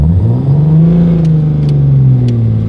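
A car engine revs steadily from inside the moving vehicle, with a loud, droning hum that rises slightly in pitch and then eases, plus faint clicks.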